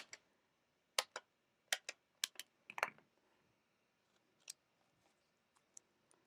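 Scissors snip foam dimensional adhesive pieces for a handmade card, giving a series of sharp close clicks and snips spaced irregularly, louder early and fainter toward the end, with no speech.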